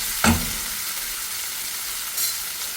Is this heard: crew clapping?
no